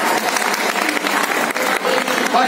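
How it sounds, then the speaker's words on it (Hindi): Listeners at a poetry recital break into a dense round of applause, close and lively clapping that stays loud for the whole short stretch. "बधाई के नाम की ताली बजा दो कम से कम"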